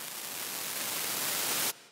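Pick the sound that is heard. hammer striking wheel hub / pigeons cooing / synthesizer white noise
synthesizer white noise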